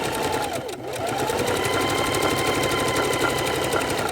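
A sewing machine stitching a quilt runs at a fast, steady rattling hum with a brief slowdown near the start while pivoting, then continues evenly, close and loud, no talking.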